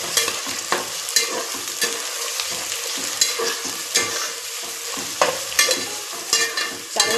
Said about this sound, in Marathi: कांदा ब्राऊन होईपर्यंत चांगला भाजून घ्यायचा